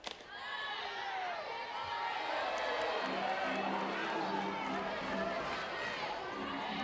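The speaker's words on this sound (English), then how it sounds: "Crowd not liking that call." A college softball crowd at Mississippi State against Georgia reacts to an umpire's call with a sustained wash of murmuring, groans and chatter that holds steady throughout and swells slightly toward the end.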